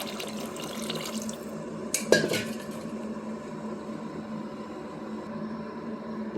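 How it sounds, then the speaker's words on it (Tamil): Tamarind water poured into a pan for Chettinad fish curry, with a brief splash and clatter of liquid and utensil partway through over a quiet kitchen background. "ஒரு எலுமிச்சைப்பழம் சைஸு அளவு புளியை கரைச்சி வச்சுருக்கேன், அதை ஊற்றிக்கலாம்"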